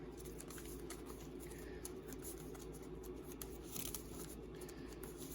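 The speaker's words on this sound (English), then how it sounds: "we're going to shuffle our deck a bit, since we will be drawing" A Yu-Gi-Oh! card deck shuffled by hand, producing faint continuous rustling and light patter, buried under a steady, noisy background.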